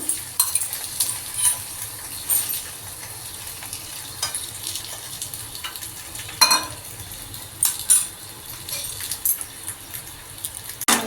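A paratha stuffed with pumpkin fries in oil in a pan, a steady soft sizzle broken by repeated clinks and scrapes of a utensil against the pan, with no talking.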